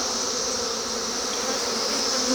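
Honeybees buzz at a hive during a busy pollinating season, a soft, steady drone of many insects droning together without pause.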